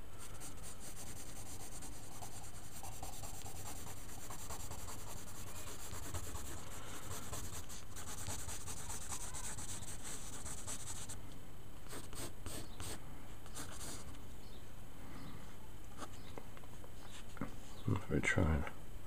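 Pencil shading scratches steadily across paper in a drawing journal, a soft continuous rubbing that runs throughout with quicker strokes near the end, quiet and close.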